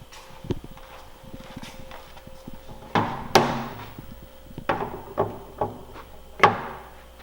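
An Olsa Tools socket holder is set against the side of a toolbox, making a handful of sharp knocks and clunks at irregular intervals over light shuffling handling noise, with no talking.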